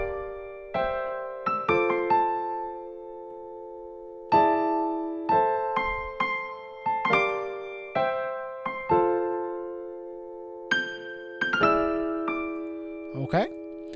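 Piano plays the second half of a song slowly, with a string of clear chords and single notes ringing out one after another, close and solo without talk.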